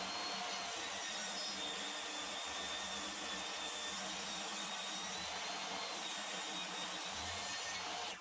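A table saw rips an oak board, giving a continuous, faint, hissing whine that holds steady for several seconds and cuts off at the end.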